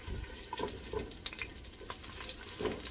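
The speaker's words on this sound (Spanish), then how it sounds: "vamos a freír este la cebolla y los dientitos de ajo y vamos a, a freír también los chiles" Onion, garlic cloves and chiles frying in oil for a Mexican asado de puerco give a light, continuous sizzle with scattered crackles and pops, heard close and with no talking.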